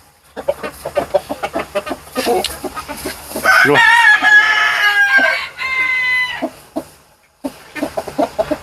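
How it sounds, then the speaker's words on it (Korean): Excited rooster, kept with Light Brahma chickens during a heat wave, crows in a long, loud, drawn-out call amid brisk, choppy clucking from the flock, with a brief spoken word nearby. "수탉이 굉장히 흥분해 있습니다"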